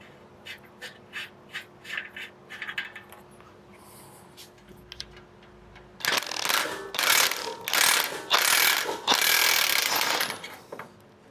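A ratchet fitted with an O2 socket clicks in short bursts while removing oxygen sensors from a 36-year-old Foxbody Mustang, first light intermittent clicking, then louder, denser ratcheting and metallic clatter close by.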